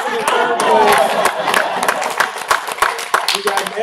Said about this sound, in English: We got an excellent clap for you.